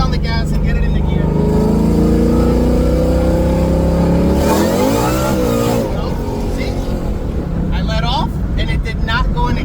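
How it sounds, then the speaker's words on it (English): A Coyote V8 in a GT500 with a T56 gearbox, heard close and loud as it revs: a steady high drone, then a swooping rise and fall in pitch as the throttle is blipped for a clutchless shift, then it settles and holds again. "2-3, breathe on the gas and get it in the gear."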